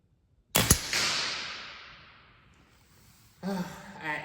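Kral Arms Empire XS .177 air rifle firing: one sharp, loud crack followed by a fading hiss, then a brief second thud near the end.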